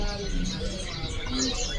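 A male cucak kinoi songbird gives short, bright chirps and calls in quick succession, fairly close, over a busy background.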